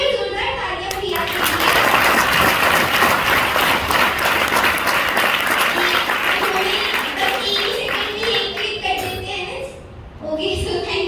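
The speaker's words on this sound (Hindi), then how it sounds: "एक बार जोरदार तालियां बजाइए।" A crowd at a Hindi-medium school event breaks into long, loud, dense applause. Children's voices chatter beneath it as the clapping thins out toward the end.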